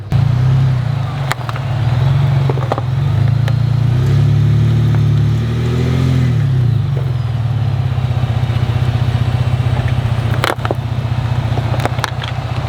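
A vehicle's engine idles and labours loudly up close as its front wheel is driven onto Amazon traction boards on a hill, a steady low rumble with a brief rise in pitch midway and a few sharp creaks and clicks.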